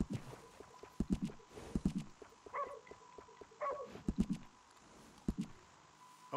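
Horse hooves clip-clopping in Red Dead Redemption 2, a loose uneven walking rhythm of close, moderately loud steps with a few brief animal noises mixed in.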